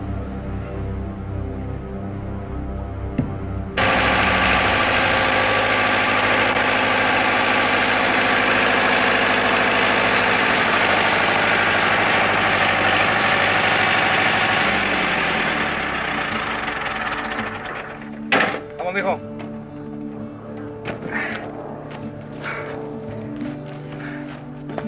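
A tractor engine idles steadily with a low, chugging rumble that stays loud and constant for a long stretch, then drops back as clattering knocks and bumps come through near the end.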